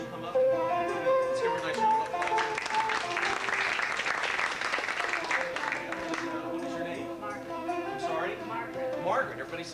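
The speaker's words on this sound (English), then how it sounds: "Let's give her a nice round of applause." An audience breaks into warm applause, many hands clapping together in a dense sustained wash that swells and then slowly thins, with a voice speaking over it near the end.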